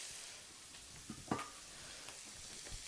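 Tempeh browning in a pan gives a quiet, steady sizzle with a few soft scrapes and stirring clicks, fairly close with no talking.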